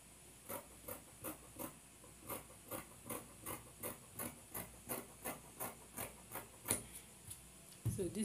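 Steady, rhythmic rasping strokes of scissors or a blade cutting fabric for a bustier lining, about two strokes a second, close and fairly faint, ending with a brief rustle of handling.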